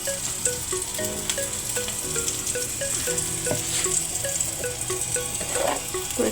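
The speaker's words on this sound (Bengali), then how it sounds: "কাঁচামরিচটাকে ভেজে এর মধ্যে একটু হলুদ লবণ দিয়ে ভাতগুলো দিয়ে দেবো" Green chilies sizzle and fry in hot oil, followed by rice with turmeric and salt, making a steady crackling hiss throughout with faint background music running underneath.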